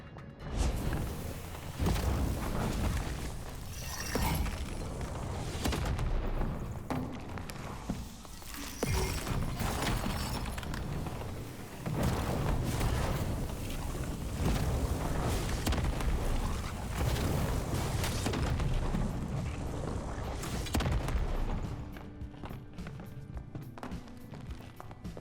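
Back-to-back spell explosions in a wizard video game, heavy booming blasts landing one after another over dense, noisy combat sound that stays loud and busy throughout.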